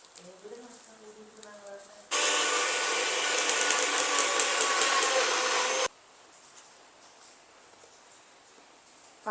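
A kitchen blender whirs loudly for about four seconds, mixing condensed milk for a mango oats smoothie, with a steady dense motor roar that starts and stops abruptly; quieter room sound and faint voice come before and after.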